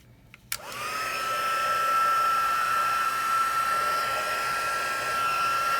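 After a small click, a hair dryer switches on and blows with a steady, loud whooshing hum and a high whine. It runs continuously and nearby.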